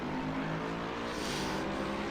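A GT3 race car in Assetto Corsa Competizione working through a hairpin at Hungaroring, its engine a continuous loud droning roar with a slight swell in pitch as it powers out, with no voices.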